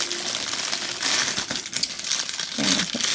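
Paper bags being handled while preparing for a crochet market, giving a continuous loud crinkling and rustling close to the microphone, with a few sharper crackles and no talking.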